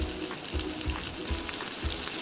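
Chopped ivy gourd (dondakaya) frying in oil in a pan, a dense continuous sizzle with soft rhythmic stirring thumps repeating about every half second, close and steady, no voices.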